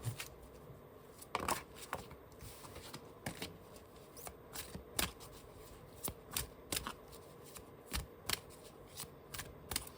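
Tarot cards shuffled by hand in a quiet room, a steady run of crisp riffling snaps and soft slides repeating across the whole stretch, close and clear with no talk.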